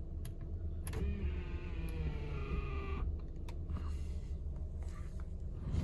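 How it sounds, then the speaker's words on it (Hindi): An electric motor in a 2017 Honda Civic folds the retractable side mirrors after the button is pressed: a steady whirring hum of about two seconds, up close over a low cabin rumble, ending with a soft click. "यह है जी रिट्रैक्टेबल का बटन।"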